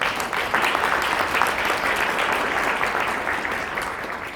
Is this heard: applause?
yes